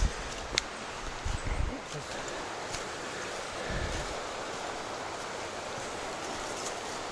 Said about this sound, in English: Creek makes for a nice sound.